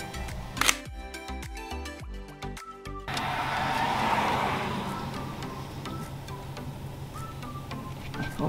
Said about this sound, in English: there's that fucking car again